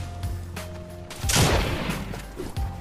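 Gunfire in Fortnite, several sharp shots followed by a louder burst of noisy crackling impact, set against a low tonal game hum, fairly loud and close.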